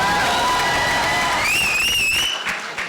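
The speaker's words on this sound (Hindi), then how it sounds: "एक बार जोरदार ताली होनी चाहिए" A large crowd at the Pathaan success party for Shahrukh Khan claps loudly and steadily, with cheering and whoops rising over the applause and an electronic whistle-like tone sweeping through before the noise thins out near the end.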